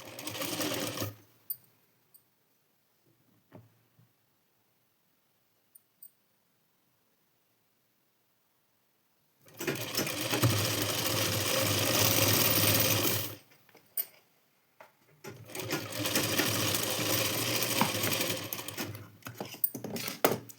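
A sewing machine runs in a short burst, then two longer stretches of steady stitching along a blouse strip, close and clear, separated by a long silent gap, with no talk.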